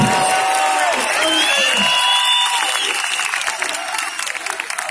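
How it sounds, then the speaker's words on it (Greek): Crowd applause at an outdoor rally in Syntagma Square, Athens, a dense, sustained wash of many hands clapping with scattered cheers and voices mixed in, thinning slightly toward the end. "Ένα θερμό χειροκρότημα για την νεολαία"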